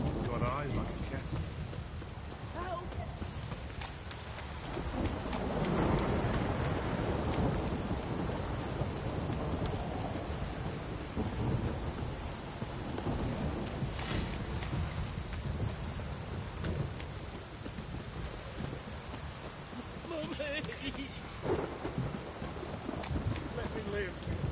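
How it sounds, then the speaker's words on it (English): Steady rainfall with rumbling thunder in a stormy outdoor scene from The Witcher 3 video game, a continuous wash of rain with low rolling booms swelling in the middle and again later. "If it don't stop raining, my arse will rot off."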